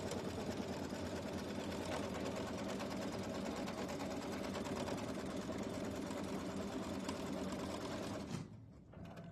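An embroidery sewing machine runs steadily, tacking down fabric for a Kimberbell quilting project with a fast, even stitching hum that continues loud and close for most of the stretch before stopping near the end.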